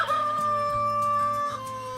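A person imitates a hen clucking, a close, repeated series of throaty, pitched clucks and drawn-out squawks in an uneven rhythm, heard alone.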